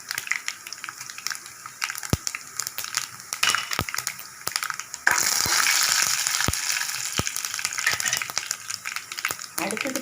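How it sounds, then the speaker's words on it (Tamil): Fennel seeds hit hot oil with dried chillies for a beetroot stir-fry, followed by a sudden louder, sustained sizzle over sharp intermittent clinks of a spoon against the pan. "இப்போ நம்ம சோம்பு போடுவோம்"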